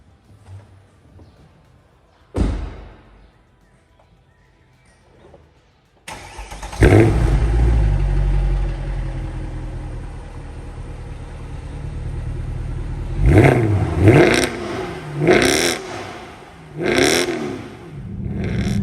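A Mercedes C63 AMG with a 6.2-litre V8 fires up with a sharp bark, then settles into a loud, steady rumble before several strong revving surges as it drives on the road.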